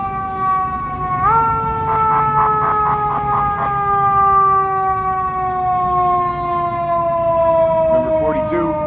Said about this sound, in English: There's an ambulance coming through here